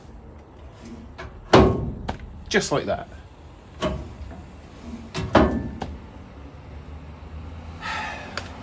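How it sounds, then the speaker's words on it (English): A shop-fabricated glove box door on a 1936 Chevy Coupe is shut with several sharp clunks and latching knocks, close and moderately loud, while someone talks briefly between them. "I will now be able to close the door and it will stay closed"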